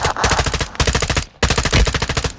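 Rapid automatic gunfire in a video game, aimed at a flying enemy: loud, dense bursts of shots in three runs with a short gap before the last, no voices.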